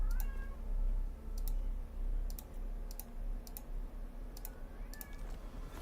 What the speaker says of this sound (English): I hear mewing in the background